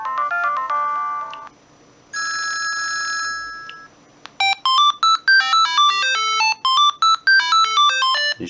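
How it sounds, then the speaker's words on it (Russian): A Siemens CT65 mobile phone plays its alarm ringtone, a loud, close polyphonic electronic melody of quick bright notes, with a brief pause and a shift to a sustained tone before the tune resumes in rapid staccato bursts. "Это рингтон, который я на будильник ставлю."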